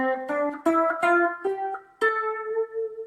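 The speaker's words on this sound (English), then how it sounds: "That's a minor scale." A minor scale played note by note on a plucked or keyed instrument, eight clear tones stepping upward at a moderate pace, the last note ringing longer.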